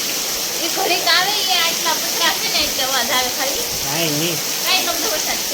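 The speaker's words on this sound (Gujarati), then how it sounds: "વરસાદનો અવાજ તો જો આવે" Steady rain hisses and patters throughout while people talk over it close by.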